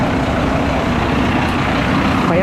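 A bus passes along a street in Manchester, giving a steady loud engine rumble and road roar that fills the whole stretch.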